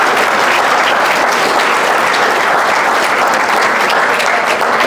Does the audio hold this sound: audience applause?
yes